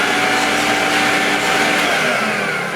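A vintage Electrolux 560 electronic upright vacuum cleaner runs with no bag fitted, its motor a loud, steady whine with a constant tonal hum, close and uninterrupted.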